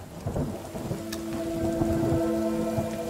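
Rain in the survival horror video game The Forest, a steady downpour hiss with a low thunder-like rumble and faint sustained tones underneath.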